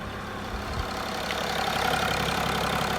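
A Mercedes W211 E320 CDI diesel engine runs at a steady, loud idle close by, a continuous low rumble with a faint knocking texture and no talking.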